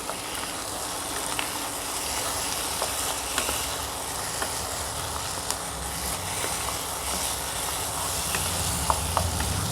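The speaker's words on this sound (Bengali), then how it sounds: "1/2 কাপের মতো জল দিয়ে দিলাম।" Half a cup of water goes into a hot pan of paneer bhurji masala, producing a steady, loud hissing sizzle that carries on evenly, with no talking.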